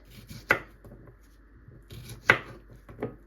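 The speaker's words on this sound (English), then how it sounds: "I'm just going to chop some little chunks of cucumber to join our salad" A knife chopping cucumber into chunks on a board, with three distinct crisp cuts spaced unevenly apart and a faint rustle between them, close and quiet.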